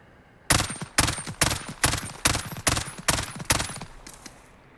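FAMAS G2 rifle fired in three-round bursts in the video game Call of Duty Modern Warfare: about nine sharp, loud, evenly spaced bursts in steady rhythm, each ringing briefly before the next, alone without talk.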